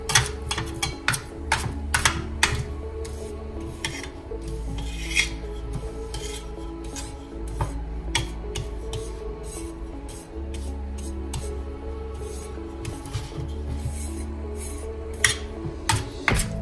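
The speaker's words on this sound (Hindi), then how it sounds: "एक चम्मच में थोड़ा घी लगा के इसको लेवल करेंगे।" A ghee-greased spoon levels burfi mixture in a metal pan, giving repeated scraping and rasping with sharp clinks and taps against the pan in an irregular rhythm, close and fairly loud, with no talking.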